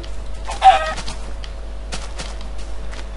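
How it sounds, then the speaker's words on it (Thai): Chickens cluck in the video game Minecraft, a few short, fairly loud clucks and squawks in quick bursts over a faint low background hum, with no one talking. "ไก่เยอะ ไก่เยอะฆ่าไว้ก่อนครับฆ่าไว้ก่อน"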